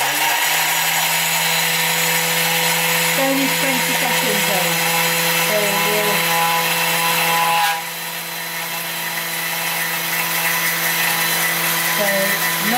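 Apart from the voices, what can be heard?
Thermomix grinding sugar and lemon peel together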